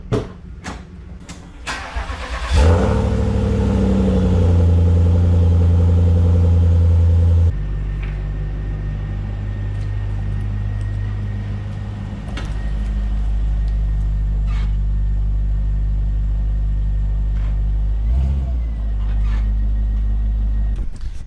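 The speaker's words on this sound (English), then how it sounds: "This is gonna be a cold start." A faulty Volvo car cranks and fires up from a cold start, catching with a loud surge after a few seconds, then settling into a steady, rough, rumbling idle close by with occasional uneven dips.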